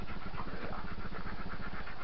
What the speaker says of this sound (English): So here we got some dogs.